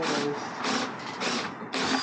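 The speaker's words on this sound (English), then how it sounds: "just drill in the last of the holes now." Power drill boring holes through an Audi TT body to mount an aftermarket spoiler, heard as several close, loud whirring bursts of drilling separated by short pauses.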